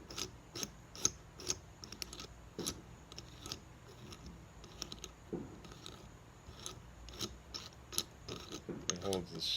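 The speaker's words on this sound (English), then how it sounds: "I believe the next thing to take off is this nut." A nut being unscrewed from the spindle sleeve of a Quorn tool grinder, with a series of faint metallic clicks and taps at irregular intervals over quiet background hum.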